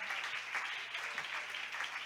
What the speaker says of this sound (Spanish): Ese aplauso fuerte al Señor,